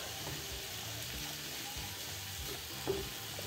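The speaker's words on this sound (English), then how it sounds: "Take my little spatula here and press this stuff apart." Cheesesteak meat on a Cuisinart Griddler gives a soft, steady sizzle at low volume while a spatula presses it apart, with one small scrape standing out partway through.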